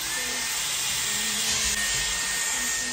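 A steady, loud blowing whir like a hair dryer runs continuously at close range, with no speech.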